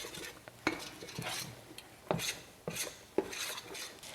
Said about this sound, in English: just keep stirring them so they don't stick to the bottom of the pan